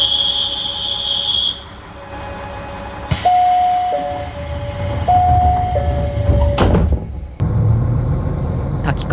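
A door chime sounds aboard a JR Hokkaido train at Takikawa Station, followed by a loud hiss and the doors sliding shut with a thud, then low rumbling idle.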